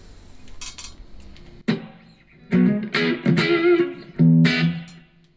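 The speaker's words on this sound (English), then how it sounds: "For now, let's just choose a small spring reverb." Sharp metallic twangs and clanks ring out in bursts through a small spring reverb effect, each trailing a springy, splashy reverberation, with short gaps of near silence between hits.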